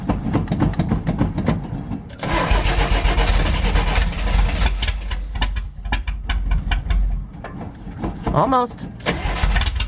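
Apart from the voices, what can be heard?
old Nash car engine starting with choke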